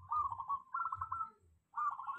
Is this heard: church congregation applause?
no